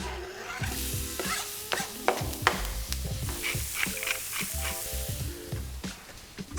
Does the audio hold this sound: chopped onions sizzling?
yes